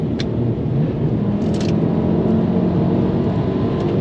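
A BMW M6 accelerating hard from around 73 mph, heard as a steady loud engine and road roar from inside the car, with no talking.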